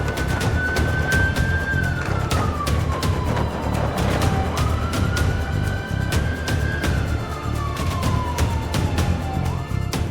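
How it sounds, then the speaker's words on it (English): A loud siren on a Land Rover Discovery Red Cross emergency vehicle wails in slow rising and falling sweeps, close by, over engine rumble and sharp clicking noises. "put on the blue light and the sirens"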